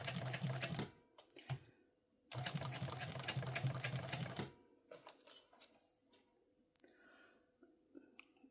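Home sewing machine stitching a Pebble Sling Bag, two loud sustained whirring runs of rapid needle strokes separated by a pause, followed by quieter clicks and handling noises.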